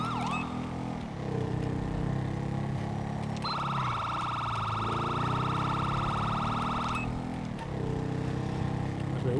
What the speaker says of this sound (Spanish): Vamos a ver aquí la sirena para que no nos lleve nadie en el cruce.